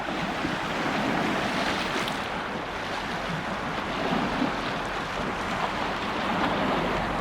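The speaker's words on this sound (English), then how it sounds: "you can hear the sound of the water lapping against the side" Steady wash of lake water sloshing and lapping against the side close by in Jönköping, Sweden, mixed with wind rumble against the microphone, continuous with no talking.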